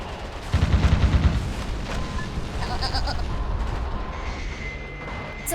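Missile explosions in the video game Metal Wolf Chaos, a burst of rapid heavy booms followed by a dense rumbling stream of blasts and game effects, fairly loud.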